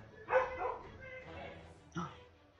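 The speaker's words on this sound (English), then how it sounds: "Uh oh, Freya's barking." Freya the dog barks in the South Park: The Stick of Truth game, two short bursts of bark-like sound at moderate level, mixed with background game audio and talk.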